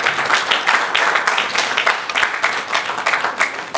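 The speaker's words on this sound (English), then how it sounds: "A round of applause for lawyer." An audience applauds a lawyer after his speech at a gathering, a loud, dense burst of many hands clapping with uneven, fluttering intensity throughout.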